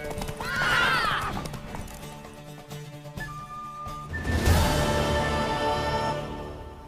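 In The Witcher 3: Wild Hunt, a horse whinnies loudly near the start, then hooves clatter and thump in a burst of movement, with steady background music underneath.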